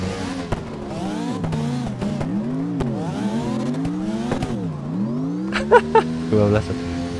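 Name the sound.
truck engine revving in same gear, video game drifting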